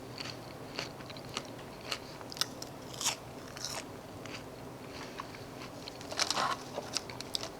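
Burger King fries are eaten up close, with scattered crisp bites and crunchy chewing coming in irregular bursts over a quiet background.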